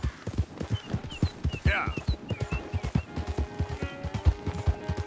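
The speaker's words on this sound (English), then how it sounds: "That looks like a pretty nice horse you got there." Horse hooves clip-clopping in the video game Red Dead Redemption 2, a close, rhythmic string of hoof strikes with a brief whinny partway through and a short spoken word over the trotting.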